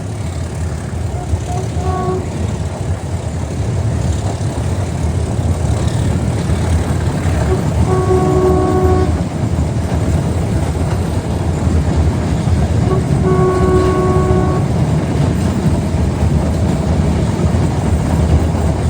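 Meter gauge diesel locomotive hauling a train, a loud steady engine drone and rolling rumble close by with repeated horn-like tones.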